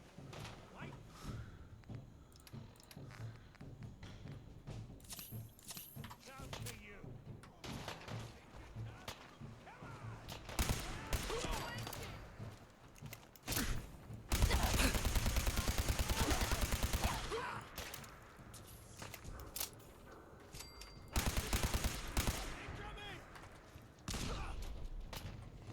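Gunfire crackles in rapid bursts and grenade blasts thump loudly during combat in the video game Fallout 4, with a voice talking at times between the shots.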